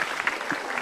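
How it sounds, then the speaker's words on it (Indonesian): An audience at a motivational talk gives a short burst of applause, a dense, steady patter of clapping heard up close and fairly soft. "Kita berikan tepuk tangan dulu untuk Mbak Ratu."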